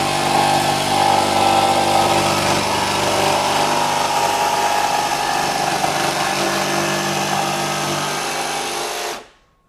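A RIDGID 18V sub-compact barrel grip cordless jig saw cuts through a board with the blower off and orbit off, a loud continuous buzzing motor and rapid blade chatter held steady before stopping abruptly near the end.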